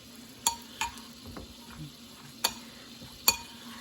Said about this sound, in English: the onions are beginning to saute in that butter